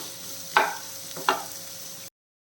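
Small onions and green chillies sautéing in a pan for a breadfruit curry, with a soft continuous sizzle and two sharp stirring scrapes from a utensil, close up with no voices, ending abruptly.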